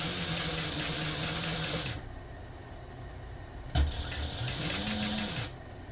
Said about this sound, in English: I'm just going to sew all the way across this.